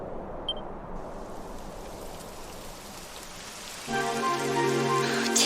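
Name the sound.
rain falling in a video game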